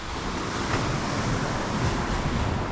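Indian Ocean surf at Palolem beach in South Goa makes a steady, broad roar of breaking waves, continuous and fairly loud, with some wind buffeting and no voices.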